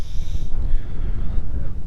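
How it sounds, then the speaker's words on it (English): Strong wind buffets the microphone with a constant low roar and gusty rumble. "It's very windy."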